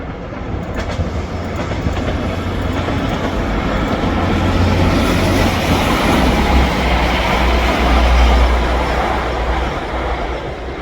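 A train passes through Ardwick Station, a loud, steady rumble and rush of wheels on rail that swells toward the middle and then eases, with no talking.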